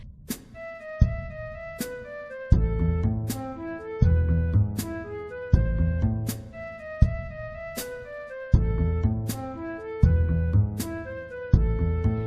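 An orchestral arrangement of Beethoven's Für Elise set in duple meter, with strong chords landing on regular two-beat pulses beneath the familiar melodic figures, played continuously and fairly full.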